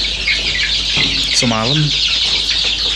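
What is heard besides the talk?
chickens clucking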